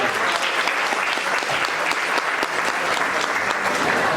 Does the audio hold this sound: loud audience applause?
yes